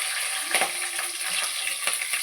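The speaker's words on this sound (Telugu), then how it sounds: "అవి వేగుతున్నాయి కదా" Garlic cloves and green chillies frying in hot oil in a pan, a steady close sizzle with a few soft stirring clicks, no talking.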